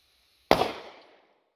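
A single 9mm round loaded with a 115-grain plated round-nose bullet is fired, a sharp loud crack that rings out and fades over about half a second.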